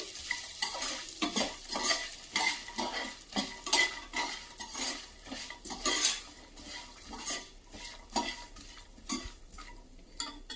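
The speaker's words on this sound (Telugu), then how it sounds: "ఇందులో 1/2 స్పూన్ కారం, టేస్ట్కి సరిపడా సాల్ట్ వేసుకొని ఒకసారి కలుపుకోండి" Puffed rice being tossed and stirred with chili powder and salt in a bowl for a masala muri snack, a steady run of dry rustling scrapes and light spoon clinks, close and fairly loud, with no talking.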